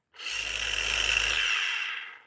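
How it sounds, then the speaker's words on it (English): A car paint polisher runs during ceramic coating panel prep, making a steady, close, high-pitched whirring hum that starts abruptly, holds for about two seconds and then fades out. "This polisher is so quiet and there's no vibration at all."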